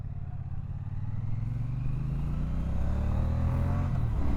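A 2025 Triumph Bonneville T120 motorcycle engine accelerating, a steady close drone that rises gradually in pitch and loudness throughout, with no talk.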